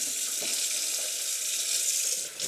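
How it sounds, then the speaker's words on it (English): Potatoes get washed under running water from a kitchen tap, a steady hissing stream with faint handling noises throughout, close and continuous with no talking. "Do you wash your potatoes before you eat them?"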